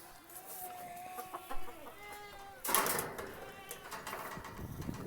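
Chickens on their roost inside a wintertime chicken house cluck and murmur softly in short, warbling calls, with a brief louder burst of rustling partway through.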